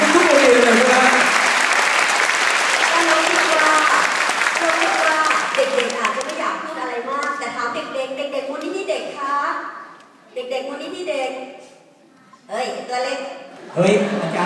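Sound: applause from a school audience

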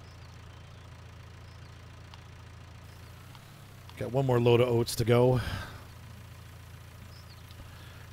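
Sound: tractor engine in farming video game

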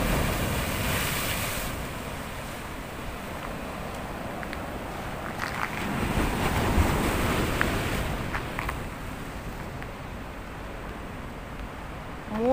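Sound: sea waves breaking on the shore

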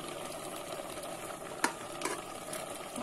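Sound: beans cooking in a pot

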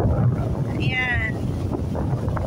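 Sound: strong wind

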